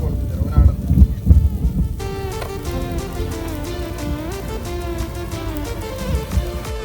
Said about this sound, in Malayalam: ഇടിയൊക്കെ വെട്ടുന്നുണ്ട്.